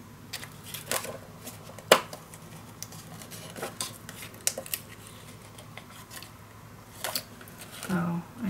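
Scissors snip through scrapbook paper in a few crisp, separate cuts close by, with light rustling of paper between them and quiet handling in the background.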